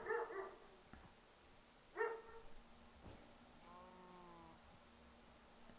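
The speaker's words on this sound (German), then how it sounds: "da bellt mein Hund wieder" A pet dog barks a few times in short bursts, fairly faint and set back from the microphone, with quiet gaps between the barks.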